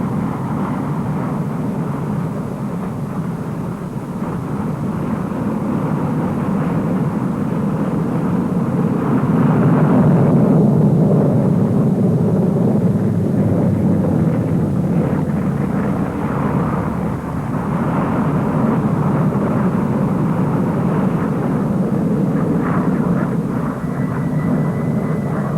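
Propeller aircraft flying in formation at the Farnborough Air Show in the late 1950s, a continuous loud engine drone that swells and fades slightly as the planes pass.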